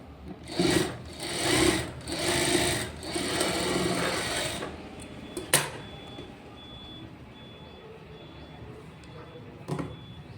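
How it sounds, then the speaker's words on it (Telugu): A computer embroidery sewing machine stitches a blouse in several loud rhythmic bursts, then stops, leaving a quiet room with a faint tone and a brief click. "ఇక్కడ డబుల్ సైడ్ ఫోల్డ్ చేసి ఇలా కుట్టు వేసుకోవాలి."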